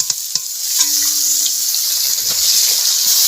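Chopped onion hitting hot oil already seasoned with cumin, whole chillies and bay leaf, giving a steady, loud bright sizzle throughout, with a few faint stirring clicks near the start.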